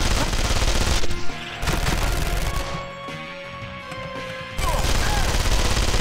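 Rapid gunfire in the Contract J.A.C.K. video game, loud dense bursts of automatic shots with a quieter pause in the middle before firing resumes.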